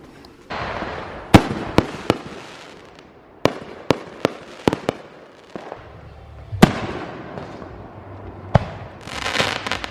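Fireworks go off in a series of sharp, irregular cracks and bangs, some close and loud, others fainter, with crackling bursts and rumbling tails between them.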